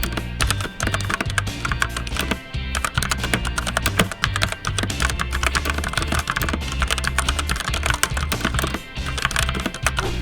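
Rapid, steady typing on a cheap mechanical keyboard, a dense run of sharp, close clicks and clacks that continues without pause.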